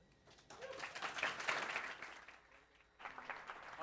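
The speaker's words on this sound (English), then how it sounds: "One more round of applause for Randy Bradshaw, our Chief Technology Officer" Audience applause for a chief technology officer at an evening company event, a fairly loud, steady wash of clapping that swells, dips briefly, then surges again before the end.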